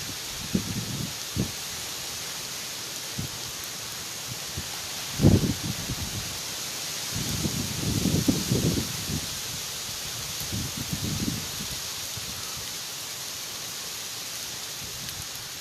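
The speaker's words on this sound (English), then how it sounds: "the wind slowed down enough that the rain's falling on all sides of the barn" Rain falls on all sides of a barn near Pikeville, North Carolina, in gusty wind: a steady hiss with intermittent rustling surges, heard alone with no voices.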